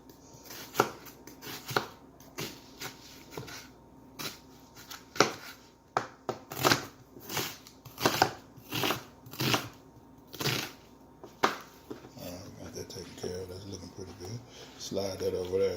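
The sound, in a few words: knife chopping an onion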